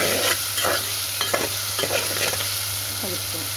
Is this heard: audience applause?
no